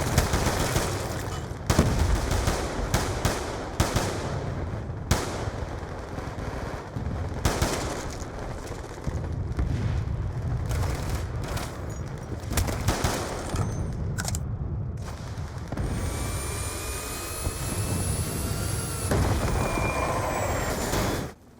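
Gunfire in Black Ops 2 rattles in repeated loud automatic bursts and single shots, dense and close, followed by a sustained mechanical whine and rumble near the end before cutting off, no talk.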